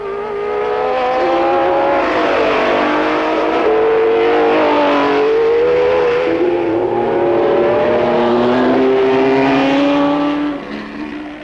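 A 1967 Formula 1 race car roars past on the Nordschleife, its engine note climbing and falling through gear changes, loud and close for several seconds before fading slightly at the end.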